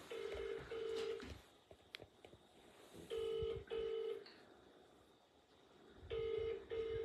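Ringback tone on an outgoing phone call, three repeated double-pulse rings with pauses between them, heard through the line at moderate volume with a faint background hiss.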